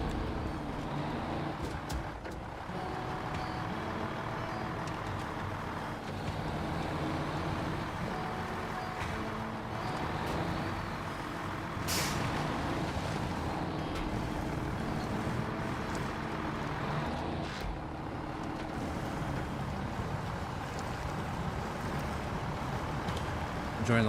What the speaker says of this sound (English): This truck just does not want to turn, man.